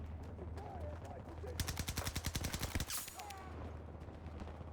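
A TP2000 B29 weapon in the Battlefield video game fires a fast burst of about a dozen evenly spaced shots, fairly faint against background game noise and a few whistling tones.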